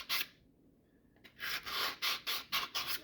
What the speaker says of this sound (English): So I'm going to hone these out with this 220 sandpaper.